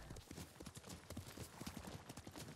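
Horse hooves clip-clop steadily in the video game Ghost of Tsushima, a brisk regular rhythm of hoofbeats at moderate distance, fairly quiet, with faint talk underneath.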